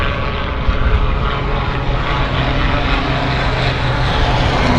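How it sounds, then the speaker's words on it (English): A business jet at Vancouver airport roars steadily and loudly, a continuous broadband engine rumble that fills the whole moment without talk. "Nice looking biz jet."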